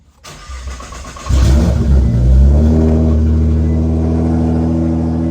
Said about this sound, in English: All right, we're gonna turn the car on.